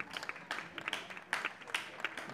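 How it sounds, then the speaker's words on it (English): Visiting football fans applaud the club director during a match between CD Almuñécar City and FC Cubillas de Albolote, a scattered, mid-distance patter of claps with brief louder bursts, heard under faint background talk. "George Jeremy, the club director, gets a round of applause from the visiting fans"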